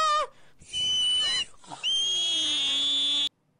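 A Minecraft pig oinking, with short squealing, whistle-like tones in quick bursts, loud and close, followed by a sharp cutoff.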